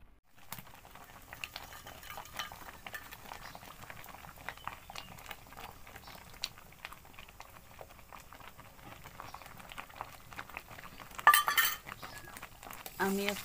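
Tomato sauce thickened with cornflour and vinegar is stirred in a pan, giving a low steady simmering patter with scattered light spoon clinks against the pan and a brief louder clatter near the end.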